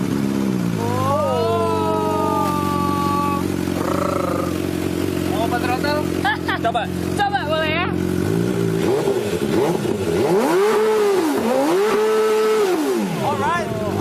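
A rare motorcycle, number 18 of 250, starting and revving at a live television show, engine pitch rising and falling in repeated throttle blips with people talking over and between the revs.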